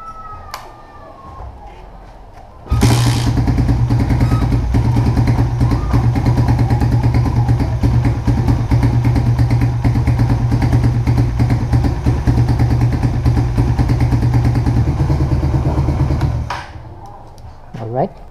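A Suzuki Raider 150 FI motorcycle engine starts after a quiet moment and idles loudly and steadily, close by, for about fifteen seconds before cutting off, following an oil change.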